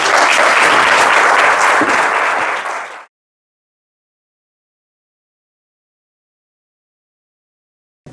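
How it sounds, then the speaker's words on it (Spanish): Loud, dense audience applause at a national congress on occupational risks, many people clapping together for about three seconds before it fades abruptly into silence. "gracias por el aplauso"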